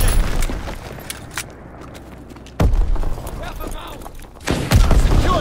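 Gunfire in the World War II shooter Call of Duty: WWII during a multiplayer Domination match on the Shipment 1944 map, with loud rifle bursts and booms that come in and out alongside quieter combat stretches.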